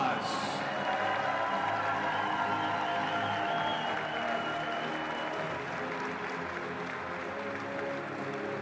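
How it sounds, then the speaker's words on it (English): Steady, sustained applause from an arena crowd honoring the student athletes, coaches and staff at the 2024 NCAA Division III women's volleyball championship, continuous and even for several seconds. "Let's give all of these outstanding student athletes, coaches, and staff a round of applause"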